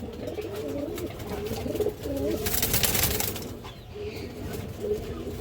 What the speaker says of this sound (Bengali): এই দেখেন পাথর চোখের একটা মাক্সি গিরিবাস মাদি কবুতর।